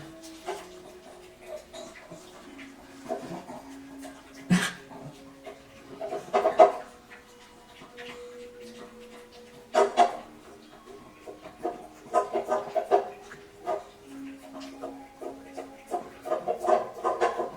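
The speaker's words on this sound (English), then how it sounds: "A little bit of dog eating dinner ASMR." A dog eats its dinner close up, with scattered soft wet chewing and licking sounds, occasional louder crunches and clinks, and quiet pauses between bouts.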